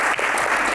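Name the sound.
audience applause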